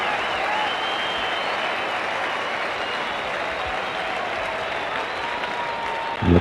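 A cricket crowd applauds a boundary struck off a bowler at a 1985 India–Australia match, a dense, sustained wash of clapping and cheering from a large stadium throughout.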